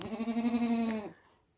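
A goat on a farm during kidding season gives a single close, drawn-out bleat lasting about a second before it cuts off into near silence.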